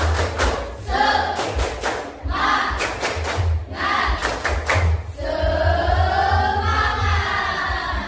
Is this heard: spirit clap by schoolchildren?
yes